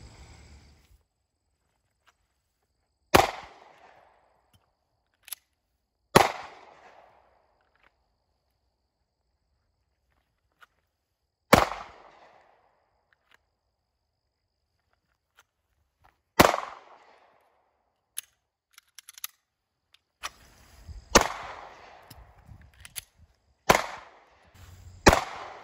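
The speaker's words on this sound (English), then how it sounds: "so let's do some shooting with this" Handgun shots fired outdoors at a range, sharp single cracks spaced several seconds apart and then quicker near the end, each followed by a short echo, with quiet between shots.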